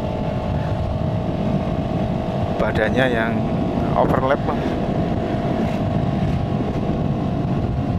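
A motorcycle with little power climbs uphill on a cool mountain road toward Nepal Van Java near Temanggung, its engine droning steadily under heavy wind buffeting while someone speaks briefly.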